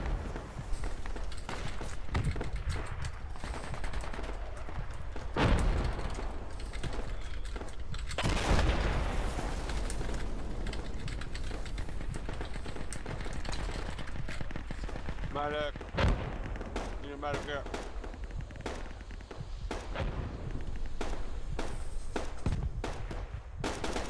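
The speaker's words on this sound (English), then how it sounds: "Got mortars coming in on Coronation Point" Incoming mortar shells land in the Project Reality video game on the Falklands map Goose Green, booming impacts and scattered gunfire spaced irregularly over a busy battlefield, with voices talking at times.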